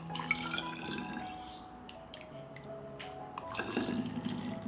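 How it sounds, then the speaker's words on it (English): Hot strawberry juice pours into glass bottles in a kitchen, giving a thin trickling, dripping stream that fades in the middle and swells again near the end. "I pour the juice into bottles while it is still hot and close the bottles immediately."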